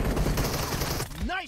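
Dense burst of rapid gunfire in PUBG Mobile, loud and continuous for about a second before cutting off, followed by a brief rising synthetic tone.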